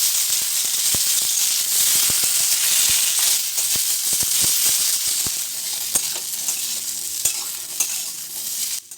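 Potato and pumpkin pieces frying in hot oil, a loud, continuous close-up sizzle with scattered sharp crackles and pops, easing slightly toward the end.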